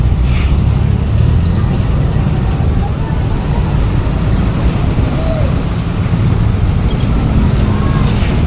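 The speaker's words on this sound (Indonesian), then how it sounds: "Tambah truk besar lagi." A big truck passes on a busy road near Padalarang station among idling minibuses, heard from a motorcycle as a loud, continuous traffic roar with heavy low rumble.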